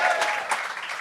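A studio audience at a comedy gong show claps in a dense, steady round of applause, with a voice faintly audible underneath.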